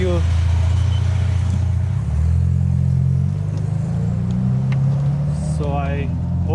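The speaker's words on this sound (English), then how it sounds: "we are gonna do a tunnel run with the exhaust" A BMW M4's exhaust drones steadily and loudly at low pitch while the car runs through a tunnel, rising slightly midway, with people talking over it throughout.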